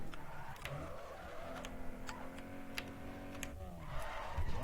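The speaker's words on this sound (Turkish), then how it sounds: "Ne garip sesler çıkartıyor arabanın motoru ya." A car engine in Need For Speed Underground 2 hums and drones unevenly, sputtering as if the ignition cuts in and out, with faint ticking clicks over a steady motor tone.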